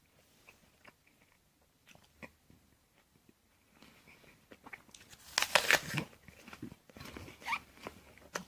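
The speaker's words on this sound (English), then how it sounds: "Very crunchy, tough. Even the way it's unpleasant when you try to bite it." Someone bites into a crunchy, tough Gala apple and chews it, with a quiet start and then a loud, sharp crunch near the middle, followed by several more close crisp chewing crunches.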